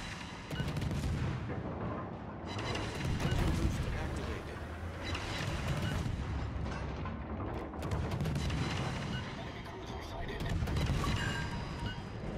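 Naval guns firing in a warship battle game, heavy booming salvos rolling one after another with a constant rumbling battle din, loud and continuous over several bursts.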